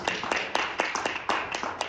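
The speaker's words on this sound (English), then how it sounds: "Come on and give God a hand clap of praise." Hand claps from a church congregation giving praise on Resurrection Sunday, sharp and fairly regular at roughly four per second, close and moderately loud, with no talk over them.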